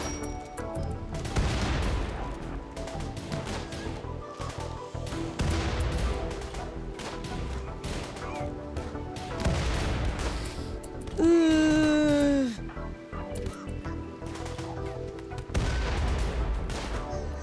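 Combat in the RimWorld video game, with a grenade blast and bursts of gunfire sounding as repeated heavy booms and rattling shots under game music, plus a sharp whistling tone near the middle.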